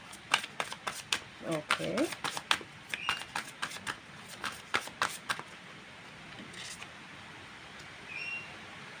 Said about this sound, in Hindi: मैं कुछ और कार्ड्स निकाल रही हूँ